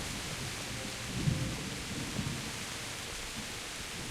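Pouring rain in the video game Kingdom Come Deliverance forms a steady, even hiss, with a faint low rumble of thunder now and then and no voices.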